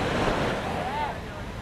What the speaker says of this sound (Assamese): চাও সাগৰৰ ঢৌ মাৰি আছে জুৰে জুৰে